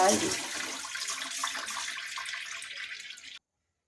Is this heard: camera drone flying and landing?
no